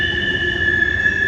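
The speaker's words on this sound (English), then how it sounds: "Yeah, that's the train." A loud train passing near the Yakima River, its wheels squealing in steady high metallic tones over a constant rumble, close and without pause.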